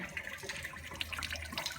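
Engine coolant dribbles and trickles steadily from a Vauxhall/Fiat 1.3 CDTi diesel just after its water pump comes out, a close, quiet continuous liquid splash without speech.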